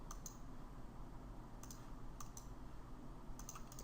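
Several quick, faint clicks of a computer mouse, in small pairs spaced over a few seconds against a low background hum, working in 3ds Max, no talking.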